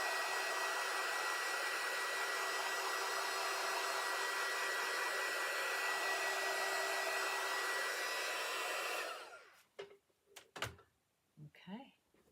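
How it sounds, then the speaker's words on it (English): A hair dryer blows steadily and close for about nine seconds, drying paint on a handmade DIY tea towel, then clicks off into a few soft handling knocks. "So we'll just dry this just a little bit."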